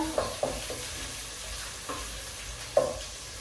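Nile perch pieces with a little spice fry in a pan while being stirred, a soft steady sizzle broken by a few sharp scrapes and taps, close up and without voices.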